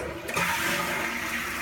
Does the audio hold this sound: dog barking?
no